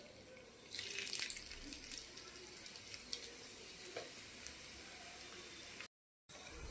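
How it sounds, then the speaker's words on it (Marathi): Leftover roti rolls fry in hot oil with a soft, steady hiss and a brief louder bubbling burst near the start. The sound is faint throughout and cuts out for a moment near the end. "दुसरी बॅच देखील मी इथं तळून घेते."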